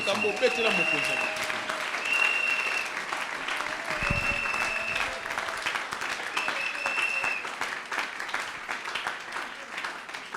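A church congregation claps and cheers in praise of the Lord, with sustained, dense applause mixed with raised voices and shouts throughout.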